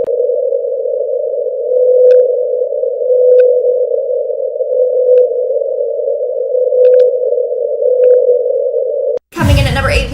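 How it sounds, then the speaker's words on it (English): A recorded call from a blue whale with an unusually high 52 Hz voice: one long, unbroken, hum-like tone holds steady and loud for about nine seconds, then cuts off abruptly into a brief rush of noise. "a blue whale with a weird high voice, with the main notes at a frequency of 52 Hz"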